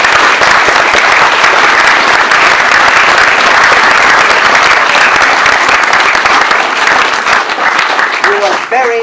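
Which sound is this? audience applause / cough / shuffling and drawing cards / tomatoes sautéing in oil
audience applause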